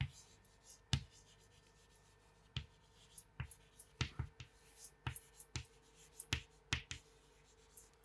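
A pen or marker writes out a chemical equation for iron filings reacting with dilute hydrochloric acid, producing quiet scratches and sharp taps in an irregular rhythm, close up against a hushed background.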